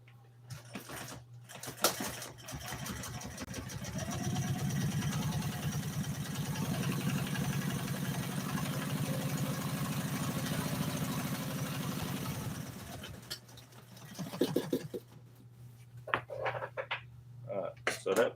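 An electric sewing machine stitches an old Toyota seat cover, running as a steady, close mechanical whir with a rapid needle chatter for about ten seconds, then stopping, with brief clicks and handling noises around it.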